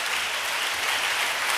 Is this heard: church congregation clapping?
yes